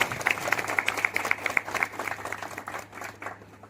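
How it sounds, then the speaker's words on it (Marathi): A crowd claps for a women's group at a village gathering, a moderately loud, uneven applause with a few distinct nearer claps that fades out toward the end. "पहिल्यांदा जोरदार टाळ्या होऊन जातात आपल्या महिला मंडळाचा"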